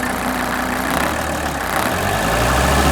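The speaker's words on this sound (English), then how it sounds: "you're going to have to race the engine up" An engine runs near at hand during a fuel injector spray test, a continuous low rumble that swells slightly in the last second as it is revved. No one speaks.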